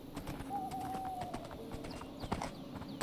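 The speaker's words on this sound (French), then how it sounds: "je vais aller remettre le cheval dans son enclos" A horse's hooves clip-clop at a slow walk as it is led back to its enclosure outdoors, steady and fairly faint, with birds calling and a whistle-like tone in the background.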